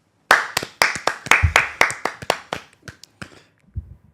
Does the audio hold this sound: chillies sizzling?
no